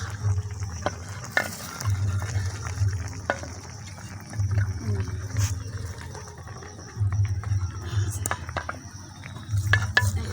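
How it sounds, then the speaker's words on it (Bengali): Cumin being stirred into a fish curry of freshly caught koi, taki, shing and chang fish with taro stolons in a pan, scraping and sizzling steadily at close range, with a low rumbling hum recurring underneath. "একটু নেড়ে দেই"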